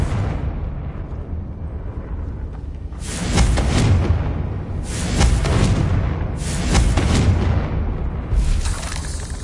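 Repeated Confringo fire-spell explosions in the video game Hogwarts Legacy, four loud booming bursts at a steady rhythm over a constant rumbling background, no talking.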